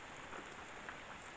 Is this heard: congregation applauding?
no